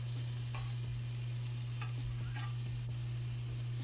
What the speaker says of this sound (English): I start off with some oil in the pan and add garlic.